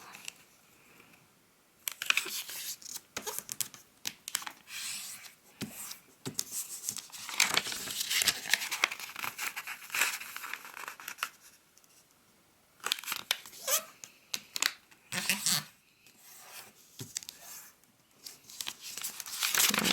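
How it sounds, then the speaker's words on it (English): A square of origami paper is folded diagonally to start a square base, making close, intermittent crinkles and rustles with short quiet pauses between bursts of handling. "we are going to fold diagonally"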